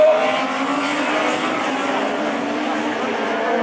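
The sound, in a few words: Citroën C2 and Renault Twingo rallycross cars racing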